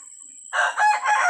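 A Thai fighting rooster crows loudly and close by, a single cock-a-doodle-doo in several bursts after a thin high background tone.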